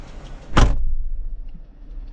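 A Jeep Wrangler passenger door slams shut once, a loud close thud followed by a quiet, steady hum of the vehicle interior.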